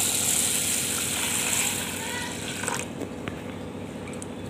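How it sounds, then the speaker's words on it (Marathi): Water pours steadily over a quarter kilo of moong dal to soak it, a close, continuous rushing splash that stops partway through, followed by quieter handling clicks. "बघा, तसं पाणी ओतून ठेवायचं"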